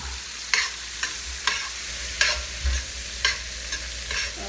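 Shrimp cooking in butter in a hot pan, a continuous soft sizzle broken by about eight distinct spatula scrapes and taps at a loose, uneven rhythm, close and moderately loud.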